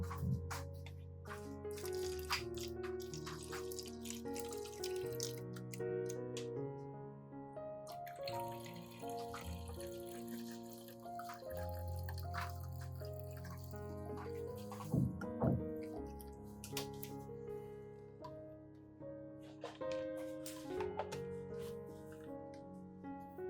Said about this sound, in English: The remaining garlic water solution I will pour into a mist spray bottle